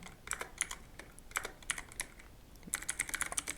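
Rapid key presses on a computer keyboard, typed in irregular bursts with brief pauses between them, close and fairly quiet, with no voices.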